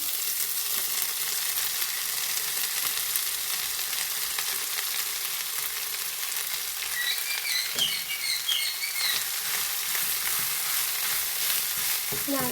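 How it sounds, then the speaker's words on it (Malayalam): Chopped spinach is tipped into onions frying in a pan and stirred, giving a steady, close sizzle with soft scraping and occasional higher crackles, no talking. "ഇനി അതിലേക്ക് കട്ട് ചെയ്ത് വെച്ച് ചീര ഇട്ട് കൊടുക്കുകയാണ്"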